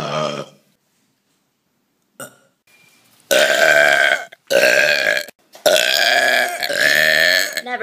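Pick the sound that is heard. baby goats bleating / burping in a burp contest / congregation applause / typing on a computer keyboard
burping in a burp contest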